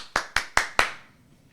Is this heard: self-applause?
yes